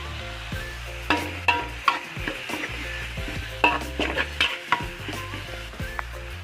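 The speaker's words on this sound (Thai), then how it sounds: "พอไข่เริ่มเซตตัวแบบนี้แล้วก็แหนมใส่เลย" Egg and fermented pork (naem) frying in a hot wok, with steady sizzling broken by repeated scraping stirs and clinks of a spatula against the pan, close and busy throughout.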